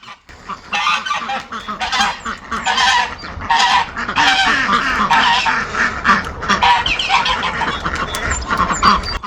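Ducks calling on a farm with water pools nearby: loud, insistent honking quacks repeat in a dense, overlapping stream, close to the listener, with no talking.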